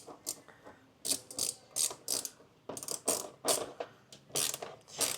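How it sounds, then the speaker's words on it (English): Ratcheting clicks from a wrench retightening a hose bracket by the air filter of a Nissan Navara NP300, arriving in several quick bursts of close, crisp clicks with brief pauses between them. "it's time to retighten this hose bracket right here."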